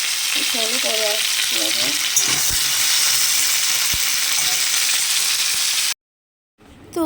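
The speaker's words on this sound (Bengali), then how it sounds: "এখানে ঝিঙে আর আলুটা আমি সামান্য ভেজে নেব" Ridge gourd and potato pieces fry in a pan, giving a loud, steady sizzle with a few clinks, while a voice talks briefly near the start; the sound cuts off to silence near the end.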